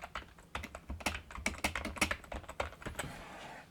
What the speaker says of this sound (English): mix together typing in plain QWERTY and Perkins input